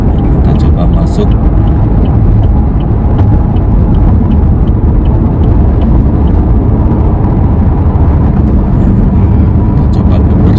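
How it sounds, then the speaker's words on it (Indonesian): A 2021 Chevrolet Camaro convertible sports car's engine roars loudly and steadily throughout, a dense sustained rumble heard from close by with no pauses. "Langsung suara engine-nya itu, suara mesinnya itu langsung ngeraung-ngeraung ya."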